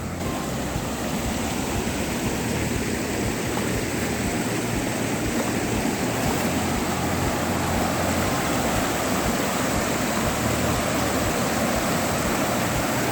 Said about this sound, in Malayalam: അടിപൊളി ഒരു സ്ഥലമാണ് കാരണം നൈസായിട്ടുള്ള വെള്ളച്ചാട്ടമാണ്